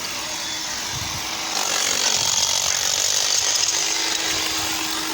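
Drilling at the Rathoa Haryam Bridge construction site in Mirpur, a continuous harsh mechanical whine and grinding that grows louder after the first second and a half and holds steady at a distance, with no talk.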